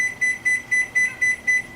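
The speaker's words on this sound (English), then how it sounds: "I'm going to set my timer here for about 10 minutes." A kitchen timer being set gives a steady run of seven short, high electronic beeps at an even quick rhythm, close and clear, with no voices over them.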